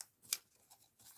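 Scissors cutting paper, a short quiet snip or two in an otherwise still room.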